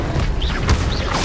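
Incendio fire spell cast in Hogwarts Legacy, heard as a loud whooshing magical burst with a low boom and rising swishes, set in dense game action.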